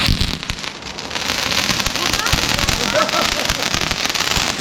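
Dense, continuous crackling and popping from firecrackers going off nearby during a Diwali celebration, loud and unbroken, with voices faintly mixed in.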